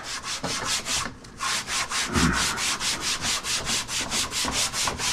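Rhythmic scuffing of a plastic car dash cluster panel during prep before dyeing, steady back-and-forth rubbing strokes about four per second, close and fairly loud, with no voices.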